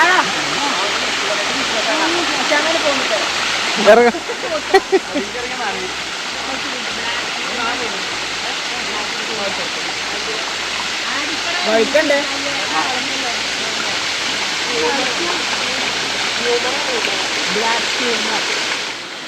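A hidden forest waterfall at Malamalkkavu, Palakkad roars as a steady, dense broadband rush that holds at an even level throughout, with a few brief splashes and knocks close by.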